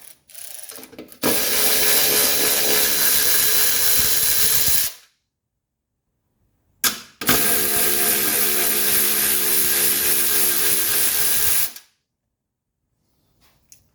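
A power tool loosens 10 millimeter bolts on a 1983 Mercedes 300TD in two loud, steady runs of several seconds each, separated by a short pause and followed by quiet.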